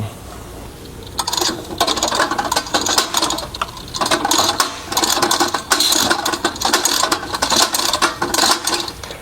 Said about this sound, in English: it makes a little bit of noise, and that's the arbor declutching every time it goes around